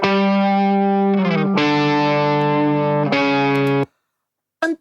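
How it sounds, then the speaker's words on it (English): Overdriven electric guitar through an AC30 amp plugin rings out sustained, distorted chords, loud and close, with a couple of chord changes before cutting to silence and a brief final strum. "I can use an AC30 amp and it'll sound like..."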